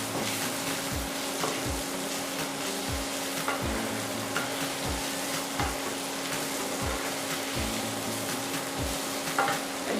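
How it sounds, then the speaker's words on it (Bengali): Prawns stirred into hot spiced masala in oil sizzle and fry steadily, with a spoon scraping the pan in regular strokes roughly every second, close up. "এতে আমরা চিংড়িটা দিয়ে দেব। ভালোভাবে মাখিয়ে নেব মশলার সাথে।"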